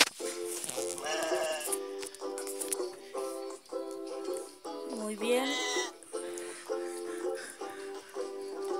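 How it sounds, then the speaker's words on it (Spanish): Goat bleating in a video game, several wavering bleats recurring across the clip over a steady game music bed, moderately loud and close. "parece que la maldita cabra ya comió su manzana"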